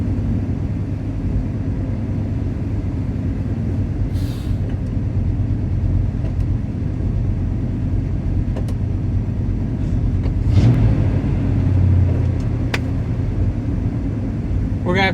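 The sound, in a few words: 1969 Plymouth Fury III engine running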